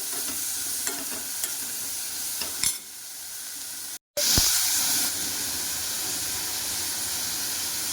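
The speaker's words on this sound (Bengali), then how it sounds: "লবণ দিয়ে নাড়াচাড়া দিয়ে একটু হলুদ দেবো" Cucumber curry is stirred in a pan after salt is added. There is a close, steady sizzle and hiss with scraping stirs, a brief gap, then a loud burst of steamy hissing before it settles back to frying.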